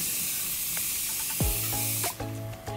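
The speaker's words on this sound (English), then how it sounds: "I'm using my Morphe Continuous Setting Mist." Makeup setting spray misted onto a face: a steady airy hiss of several short pump bursts, close and fairly quiet, with no talking.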